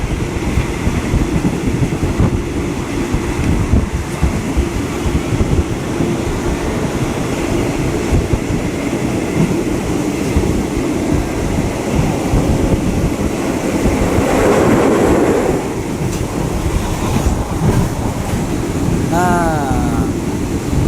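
A Thai train runs along the rails with a loud, continuous rattling rumble and rushing wind buffeting the microphone, joined briefly near the end by a high squeal.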